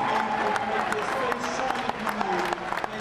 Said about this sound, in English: As they left Grenfell Tower yesterday, a round of applause